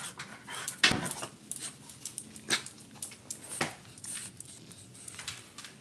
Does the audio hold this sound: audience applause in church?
no